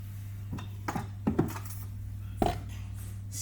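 A big cleaver-style knife cuts a ball of oiled pizza dough in half on a board, giving a few sharp knocks and taps spread over a few seconds over a steady low hum, with no talk.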